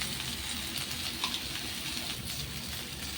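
Pointed gourd, pumpkin, potato and shrimp sauté slowly with chili and coriander powder in a pan. The result is a steady, close, moderately loud frying sizzle with soft stirring scrapes, continuous throughout.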